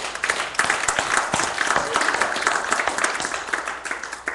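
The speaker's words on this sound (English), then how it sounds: "Give the Lord a hand clap." A church congregation claps for the Lord during a Sunday service, a dense, steady patter of many hands filling the room for several seconds under some background voices.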